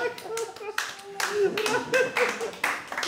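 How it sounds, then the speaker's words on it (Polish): Audience applause at an indoor event: a sustained burst of many hands clapping, fairly close and loud, with voices speaking over and among the claps. "Dziękuję za oklaski, bo teraz wszystko się zmieniło."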